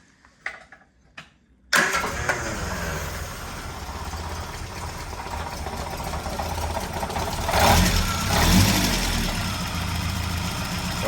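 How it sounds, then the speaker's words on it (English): A 1980 Triumph Spitfire 1500 engine cranks over after a few faint clicks, then catches and settles into a loud, close idle with a metallic rattle and a couple of brief revs. "1980 Spitfire engine rattle"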